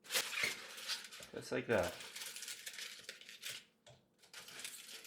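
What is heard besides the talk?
aluminum foil being put into an air fryer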